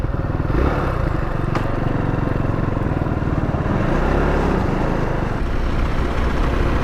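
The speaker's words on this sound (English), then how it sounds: "Now let's try riding the bike." An FB Mondial HPS 300 single-cylinder motorcycle is ridden along, its engine a steady, close, throbbing drone with road and wind noise mixed in and no talk.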